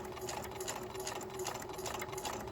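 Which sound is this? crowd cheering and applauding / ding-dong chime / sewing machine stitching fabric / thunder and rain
sewing machine stitching fabric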